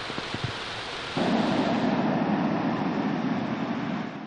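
Heavy typhoon rain pours down steadily in Aurora, a dense constant roar that thickens abruptly after a brief low rumble at the start, with no voices.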